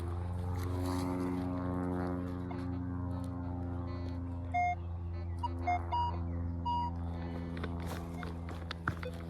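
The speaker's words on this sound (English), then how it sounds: "Plane is nice and noisy over top of me here." A propeller plane drones steadily overhead, a low continuous hum, with scattered faint knocks and bird-like chirps nearby.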